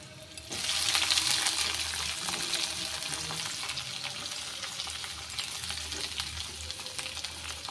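Onion frying in a pan for dhaba-style tadka dal, a steady close sizzle with occasional stirring scrapes, continuous throughout without speech.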